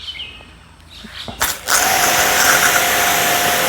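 Pressure being adjusted on a Shakti Technology S3 pressure washer: a few small mechanical clicks, then a sharp burst and a loud, steady hissing rush that continues to the end.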